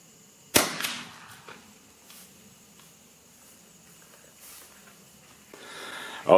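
A 20 gauge shotgun firing a lead pheasant load from a bag and cradle outdoors, one sharp close blast followed by a short fading echo, then quiet with faint rustling.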